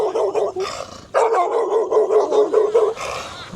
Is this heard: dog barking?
yes